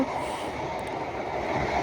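A steady, continuous rumble of a passenger train in motion in Bangladesh, heard from inside, with constant wheel and carriage noise and no voices.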